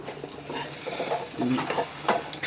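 Food being stirred and mixed in a pan in a home kitchen, with a soft scraping rhythm and a few light clinks of the utensil against the pan, close and fairly quiet, with no talking.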